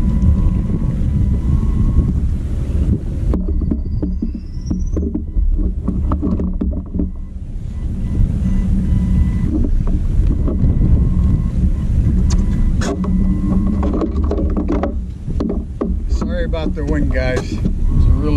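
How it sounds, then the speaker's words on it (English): Strong wind buffets the microphone on a kayak fishing outing off Caladesi Island, a loud continuous roar and rumble that rises and dips throughout, with water sounds beneath and a voice speaking briefly. "it's a really windy day"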